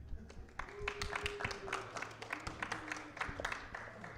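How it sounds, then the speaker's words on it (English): Audience applause at a karate combat press conference: a faint, steady patter of many hands clapping at a distance, holding on for several seconds with a few sharper individual claps. "And a round of applause"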